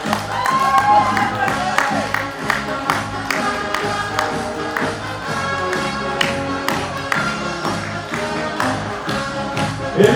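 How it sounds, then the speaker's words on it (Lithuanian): A crowd at a burger festival claps and cheers for the winner of a burger-eating contest, with steady applause and rhythmic tapping under a loud announcer's voice. "Ir jūsų plojimai Adomai"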